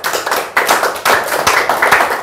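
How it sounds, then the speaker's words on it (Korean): A lecture audience at a health talk on change management claps loudly and close by, with sharp hand claps landing in quick bunched bursts and no speech over them. "박수 한번 쳐주세요."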